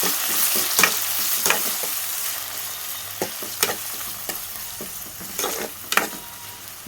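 Tomatoes and green chillies frying with onions in a pan for a chicken gravy curry, a steady close sizzle broken by repeated sharp scrapes of a stirring spoon.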